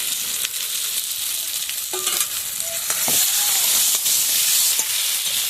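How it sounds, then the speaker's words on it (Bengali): Fried prawns go into a spiced masala that has released its oil, along with potatoes, producing a loud, continuous close sizzle with stirring clatters that swells and brightens partway through. "মশলা থেকে তেল ছেড়ে গেছে, এবার ভাজা চিংড়ি মাছগুলো দিয়ে দিচ্ছি"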